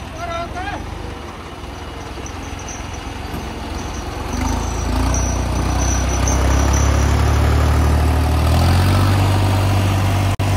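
A tractor engine idles in a sugarcane field after hauling out a stuck trolley, a low steady rumble that grows louder and rougher midway, with people talking over it.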